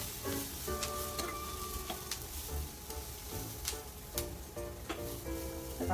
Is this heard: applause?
no